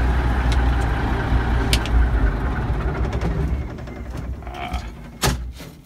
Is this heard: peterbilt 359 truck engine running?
yes